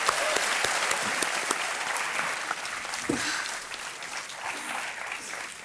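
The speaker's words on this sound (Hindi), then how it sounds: "तालियां बजती रहे इनके लिए।" Studio audience at a televised quiz show clapping loudly and continuously, a dense even wash of applause filling the room with no speech over it, fading slightly toward the end.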